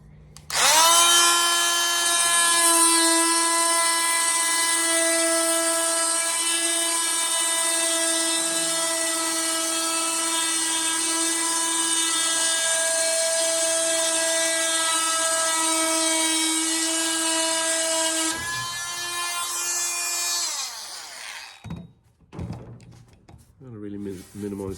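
Power saw cutting plywood at an angle across the plies, a loud steady high-pitched whine held for about twenty seconds before winding down, followed by clattering handling noises.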